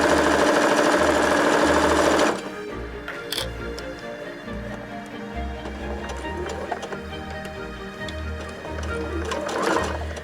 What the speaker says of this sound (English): So I'm going to start sewing there and sew all the way around